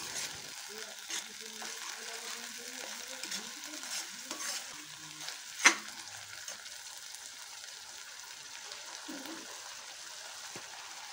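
Spice paste for a rajma curry sizzling and frying in a pan while being stirred, a steady hiss with scraping stir sounds and a brief sharp clink near the middle, moderately quiet and heard alone.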